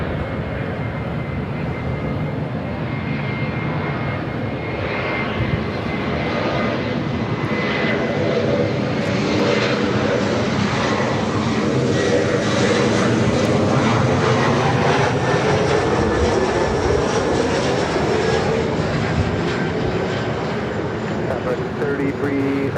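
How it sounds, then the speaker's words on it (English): An Air Tahiti Nui Boeing 787 Dreamliner takes off at LAX with a loud, sustained jet engine roar that swells and shifts in pitch over about twenty seconds, with radio chatter mixed in. "We have an Air Tahiti Niue Dreamliner heading up here for Northside at takeoff."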